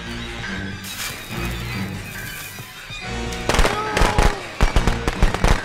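Firecrackers go off in the Friday the 13th video game as a rapid string of loud, sharp pops and crackles, densest toward the end, with game ambience and a player talking during the quieter first half.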